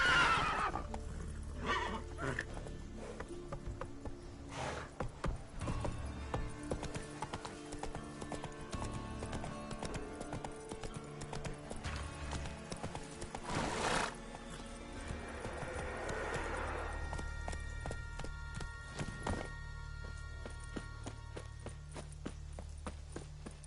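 A horse in The Witcher 3 gallops with rapid, close hoofbeats over a low rumble, and a loud neigh breaks out partway through before the hoofbeats carry on.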